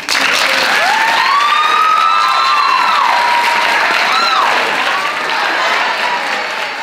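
A university crowd claps steadily throughout after a spoken-word poetry performance, with a few high whistles and cheers riding over the applause.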